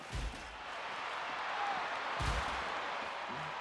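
Broadband roar of a wrestling crowd at a hardcore match in Seattle, steady and loud throughout, with heavy low thuds of bodies or slams hitting the ring near the start and midway.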